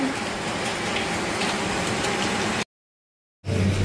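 Rain falls in a steady, broad hiss of drops, close and fairly loud, before a short gap of silence and a brief return.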